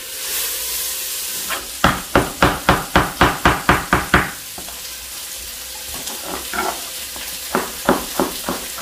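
Chicken soup ingredients roasting in a pan over high heat, with a steady sizzle broken by a quick run of about ten sharp, evenly spaced knocks as the pan is shaken or stirred, then a few softer scrapes and taps.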